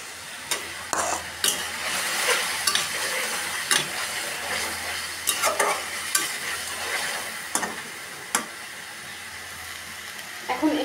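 Boiled eggs are fried and stirred in a masala of onion, chili, ginger and garlic paste, making a soft steady sizzle punctuated by sharp spoon scrapes and clinks against the pan.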